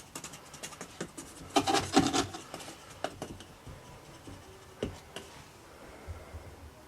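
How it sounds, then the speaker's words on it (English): Foundry sand being tamped down into a core box for sand cores makes a series of gritty rubbing and packing taps, irregular and close, clustered early then sparser. "Once you get the sand tamped down, it's surprising how they stop in place quite nicely."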